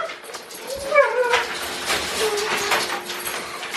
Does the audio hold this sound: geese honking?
no